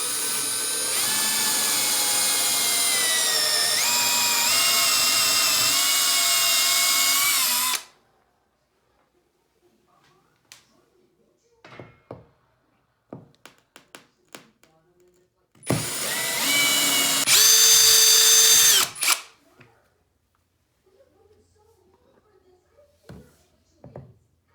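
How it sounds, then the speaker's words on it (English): A power drill bores holes for a sliding shower door track above a bathtub, whining loudly for about eight seconds, then after a pause of small clicks and handling noises, a second shorter burst of drilling. "Now you got your holes marked, go ahead and drill them."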